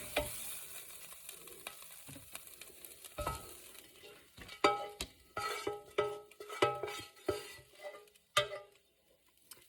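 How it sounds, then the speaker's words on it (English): Metal spoon scraping and scooping shrimp and scallops out of a frying pan, a series of sharp clinks and scrapes over a low sizzle, growing louder and more rhythmic toward the end. "I'm going to use my spoon here to get it out of my pan"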